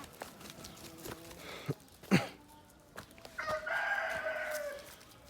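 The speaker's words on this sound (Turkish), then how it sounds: "Tavuklar böyle. Dolanıyorlar, geziyorlar." Village chickens cluck and murmur nearby in scattered bursts, with a rooster crowing loudly toward the end; no talking.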